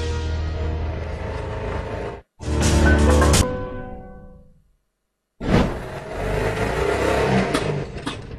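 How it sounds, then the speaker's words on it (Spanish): A compressed-air powered car engine runs in two steady, loud stretches split by a short break and then a full silence, with a hissing, whooshing quality and no voices. "Es un auto que funciona con aire comprimido."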